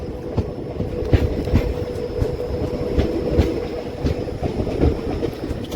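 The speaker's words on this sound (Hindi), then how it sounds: "तो ट्रेन हमारी काटोल रेलवे स्टेशन पहुंच गई है।" The Gomti Sagar Express, train 16094, pulls into Katol railway station with a loud, steady rumble of wheels and rhythmic clatter over the rail joints, close by and with no talking.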